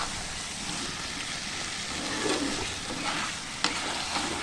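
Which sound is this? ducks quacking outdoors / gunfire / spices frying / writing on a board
spices frying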